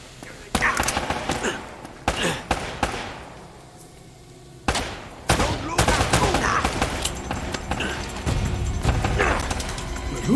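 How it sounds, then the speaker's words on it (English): Gunfire crackles in Uncharted: Drake's Fortune, sharp repeated shots in uneven bursts with loud impacts and thuds, some close and others trailing off, with a voice in between. "But who's shooting?"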